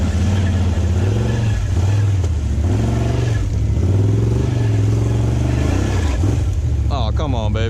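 Can-Am XMR off-road vehicle crawling over roots and branches in 4-wheel drive, its engine loud and close with rising and falling revs, a voice talking over it.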